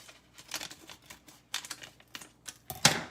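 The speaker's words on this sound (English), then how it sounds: "next we're going to cut open our package" Scissors cut open a plastic food package in a series of quiet, close crinkling snips and rustles, ending in a sharper crackle, with no one talking.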